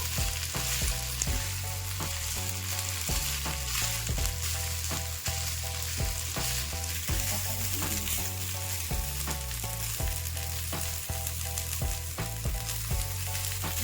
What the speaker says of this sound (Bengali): চালটা ভালো করে ভেজে নিতে হবে ভাজতে ভাজতে চালের কালারটাও চেঞ্জ হয়ে যাবে